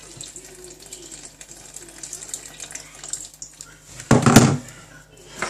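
Warm water pours from a tap for pizza dough, a short burst of splashing and running water near the end, following quiet kitchen background noise.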